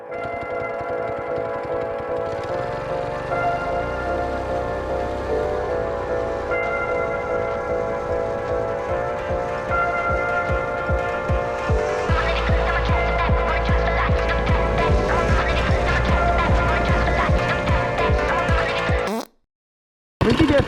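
A Stage 2 Predator 212 small engine runs at full throttle, a loud sustained droning hum whose pitch climbs as revs rise, then cuts to silence near the end before resuming.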